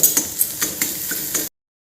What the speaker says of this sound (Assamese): এতিয়া আমি কণীটো ভাজি ল'ম।